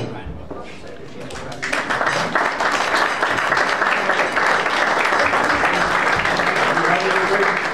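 Wedding guests applaud the bride, starting after a quieter moment with voices, then swelling into dense, sustained clapping that holds steady to the end.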